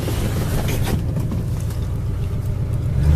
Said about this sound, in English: This little Mustang idles great, runs excellent.